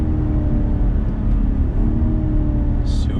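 Cadillac CTS-V sedan accelerating through a twisty section, its engine a steady loud drone heard close from inside the cabin, with a brief higher whir near the end.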